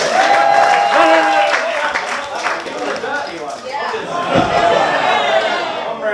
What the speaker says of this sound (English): give a round of applause for Shitty Man and his dong